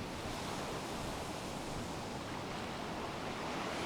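Ocean waves break steadily along an eroding coast reinforced with pebbles, making a continuous, even roar of surf without pauses or voices.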